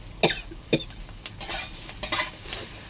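Chillies frying in a pan, a soft steady sizzle broken by several sharp scraping stirs and spoon knocks against the pan, close up with no talk.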